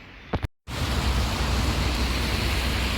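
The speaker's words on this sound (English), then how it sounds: "rain starting again" Steady rain in Normandy, France, on a grey day, a dense even hiss that starts after a brief silent gap and holds loud and constant to the end.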